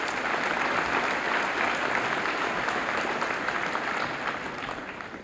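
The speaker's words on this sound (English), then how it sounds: "Let's give these students a round of applause." A school audience at a high school senior assembly claps steadily for students with perfect attendance, a full, even round of applause that tapers off slightly at the close.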